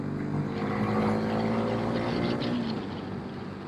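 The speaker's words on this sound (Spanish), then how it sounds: "vamos a hacer un rebase para que les comparta un poco cómo es la aceleración" Steady engine drone from a Bajaj Dominar 250 motorcycle pulling hard to overtake, with a continuous mid-pitched hum, faint rising harmonics and wind rush that stays at an even level throughout.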